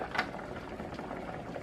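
Eggs boil in water in a saucepan with the lid on, a constant bubbling rumble with soft pops and rattles, moderately close and steady throughout.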